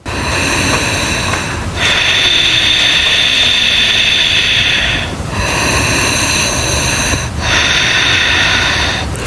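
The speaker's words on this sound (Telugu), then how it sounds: "దీర్ఘ శ్వాసలు తీసుకోవడం" Slow, deep breaths drawn close to the microphone, each a long, loud rushing hiss, repeating about four times with brief pauses between.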